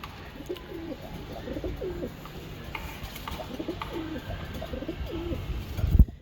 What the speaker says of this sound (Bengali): এই একজোড়া ফাঁকা সবুজ গলা কবুতর